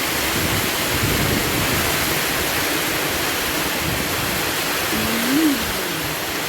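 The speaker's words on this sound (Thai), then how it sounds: "อู้ยทางลม ลมฝนนะ" Steady, heavy storm rain pours down with a constant roaring hiss, wind-driven and loud throughout, with no breaks in the downpour.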